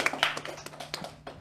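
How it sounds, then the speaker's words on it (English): A small audience gives a brief, faint round of scattered hand claps, a handful of sharp irregular slaps rather than a full roar, at a live conversation event. "Give them a round of applause."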